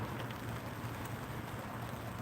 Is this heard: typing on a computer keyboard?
no